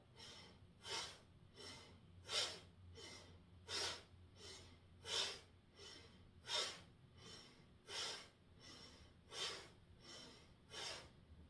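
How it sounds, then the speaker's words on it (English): Slow, steady nasal breathing during a beginner yoga breath-work session, with about eight soft, airy in-and-out breaths spaced roughly every one and a half seconds, close and clear over a faint low hum. "Inhale, exhale, inhale, exhale, inhale, exhale. All through your nose."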